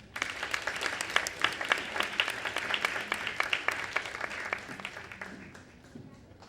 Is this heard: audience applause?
yes